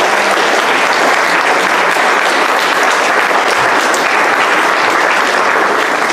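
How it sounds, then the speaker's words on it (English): Loud, sustained applause from a worship-event audience honoring guests, a thick, unbroken roar of many hands clapping close and steady. "Let's give applause to our guests."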